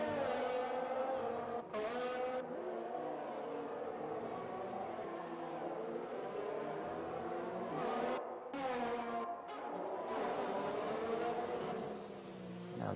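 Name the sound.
Formula 1 race cars racing in video game F1 2020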